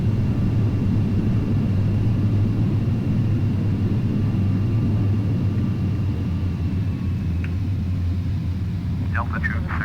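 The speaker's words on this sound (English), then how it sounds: "Throttle is full reverse." An airliner's engines roar in full reverse thrust after landing at Sarasota, a loud, steady low rumble in the cabin that holds throughout, with faint tones and a voice briefly near the end.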